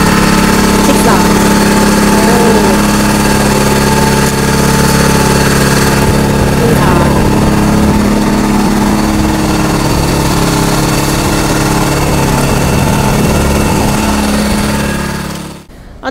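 An engine-powered agricultural sprayer runs continuously at a steady idle, a loud close-up small-engine drone with constant vibration and a little background talk, cutting off abruptly at the very end.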